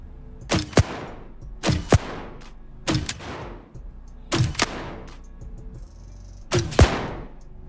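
Grenade launcher blasts in a video game, five separate sharp, booming bursts spaced about a second and a half apart, each with a quick double crack and a short fading tail, loud and close with no talk.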